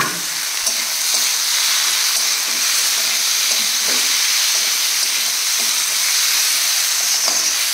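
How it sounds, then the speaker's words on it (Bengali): Okra with spices fries in a pan, giving a loud, continuous close-up sizzle and hiss that holds steady from start to finish with faint stirring scrapes and no talking. "একটু ভালো করে ভেজে নিয়ে জল দিয়ে দেবো। ঢ্যাঁড়সগুলো দিয়ে দিই।"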